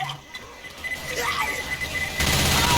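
An explosion in the multiplayer game Left 4 Dead 2, a loud burst that swells into a dense crackling rumble with sharp noise near the end, under faint game sounds.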